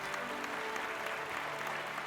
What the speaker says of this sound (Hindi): उनका भी जोरदार तालियों के साथ एक बार फिर से स्वागत कीजिए